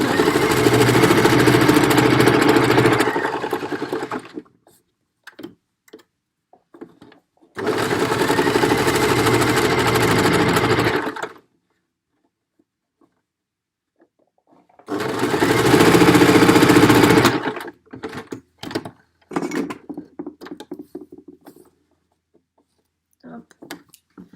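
A sewing machine stitches cotton and fleece together for a fabric face mask, running in three separate bursts of a few seconds each, loud and close, with quiet handling noises between them.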